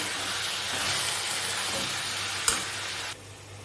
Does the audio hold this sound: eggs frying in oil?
yes